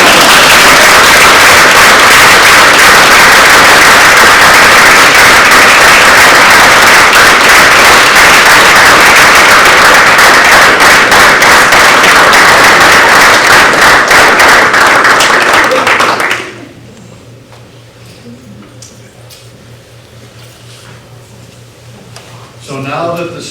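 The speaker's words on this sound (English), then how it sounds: "Now we can clap." A school board meeting audience bursts into loud, sustained applause lasting about sixteen seconds, then the clapping stops abruptly, leaving faint room noise.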